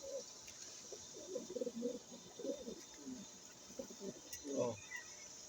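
Soft, low pigeon coos repeat in short rounded phrases, fairly close, over a quiet background hiss with a few faint chirps.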